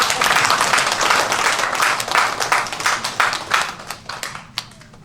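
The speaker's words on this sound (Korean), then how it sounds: "박수로 환영합시다." Audience at a Korean church book-launch ceremony clapping in welcome, a burst of dense applause that thins into scattered individual claps and fades out.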